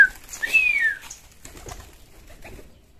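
Village pigeons cooing close by while eating rice, one clear rising-falling coo followed by softer scattered cooing and faint shuffling, with no talk.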